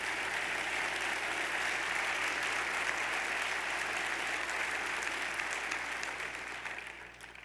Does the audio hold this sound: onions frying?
no